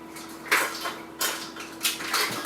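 Kitchen utensils rummaged through while hunting for a measuring spoon during coleslaw prep, with three bright metallic clattering bursts spaced about a second apart over a steady low background hum.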